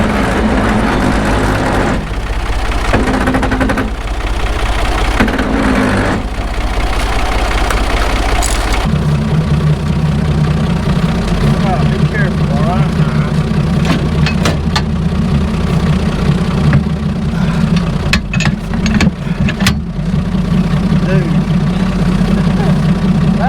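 A tractor engine idles steadily in a pasture, a loud, continuous low rumble that shifts in pitch partway through, with metallic clanks and knocks near the end.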